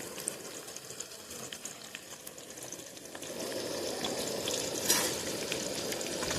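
Curry leaves drop into hot oil in a home kitchen pan with lentils cooking; a soft bubbling gives way to a louder, steady sizzle that swells sharply for a moment, then settles into continuous frying.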